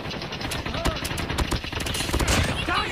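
Dense, continuous gunfire from Call of Duty, rapid overlapping shots and explosive cracks filling the whole stretch, loud and close, with a voice talking underneath.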